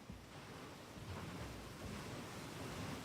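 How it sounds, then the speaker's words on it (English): Dense, steady rainfall with a low rumbling wash, like rain and water effects in a video game, continuous and fairly loud with no voices. "The rain effects, the water effects."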